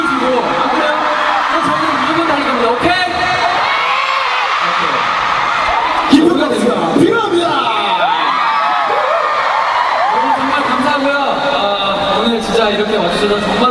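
A concert crowd at a show cheers and whoops in a steady, dense roar that holds for the whole stretch, with shouts rising above it now and then.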